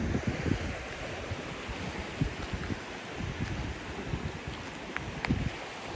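Wind buffets the microphone over a steady rush of surf on a beach at low tide on Sanibel Island, a continuous, rough noise with no voices.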